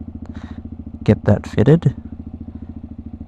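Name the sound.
CFMOTO Papio SS motorcycle idling with Aliexpress slip-on exhaust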